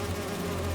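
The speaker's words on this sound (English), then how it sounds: "Do you see those little holographic bee wolves?" Holographic bee wolves in the video game Spider-Man 2 give off a steady, loud insect-like buzz that drones on without a break through the short moment.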